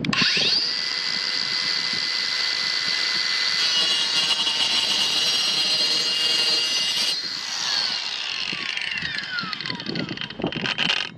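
A Kobalt 24-volt Max 4-inch brushless cordless circular saw, model KMC 124B-03, cuts across inch-and-a-half PVC pipe with a loud, steady high whine and a shifting pitch near the end as the cut finishes and the blade winds down.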